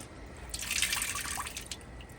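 A Glacier Bay dual-flush toilet, a 2014 elongated model, gives a brief rushing, splashing burst of water as it flushes, building and then fading over about two seconds, heard up close with no talk.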